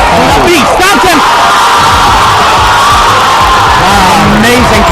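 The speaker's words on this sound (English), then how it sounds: "The crowd is going crazy. And the crowd is going nuts." A crowd at a Super Smash Bros. Brawl tournament cheers and shouts loudly, a dense roar of whoops and yells filling the whole clip, with excited voices rising over the din.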